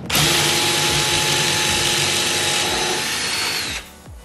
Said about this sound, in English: And that's how you drill a pocket hole.